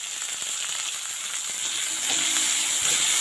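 Sliced onions sauté in a pan for mushroom masala, giving a steady close sizzle that swells slightly louder toward the end, with a few soft stirring scrapes.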